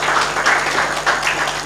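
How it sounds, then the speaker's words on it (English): Dense audience applause fills a conference hall at the East Africa Conext event, a steady wash of many hands clapping together for CS Swallow, moderately loud and continuous throughout. "A round of applause for CS Swallow, please."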